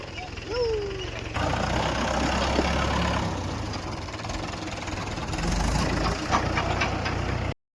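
A tractor's diesel engine idles steadily with a low rumble throughout on a farm, with a person speaking over it and a short rising tone near the start.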